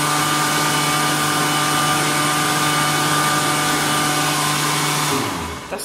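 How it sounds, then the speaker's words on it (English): A loud electric hot-air hand dryer blows steadily with a constant whirring roar, then winds down at the end. "That's got very hot air, and so it's actually a good dryer."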